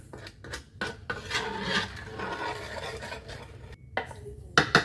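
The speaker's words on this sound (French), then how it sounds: "Je mélange bien là." A spoon scrapes and rasps around a bowl while cake batter is stirred, in irregular rubbing strokes with a few sharper clinks against the bowl near the end.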